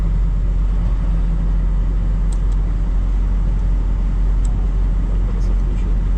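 A car drives along a snowy winter road in New Brunswick, Canada, its steady engine and road rumble loud and continuous from inside the cabin, with faint clicks as it slows.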